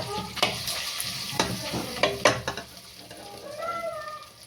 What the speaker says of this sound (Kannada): ಒಗ್ಗರಣೆ ಎಲ್ಲ ರೆಡಿ ಇದೆ, ಒಗ್ಗರಣೆ ಹಾಕೋಣ